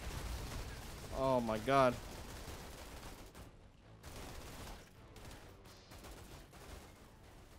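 Gunfire in the Outriders shooter game, a dense rumbling barrage of shots and impacts throughout, with a brief vocal exclamation early on over the fighting.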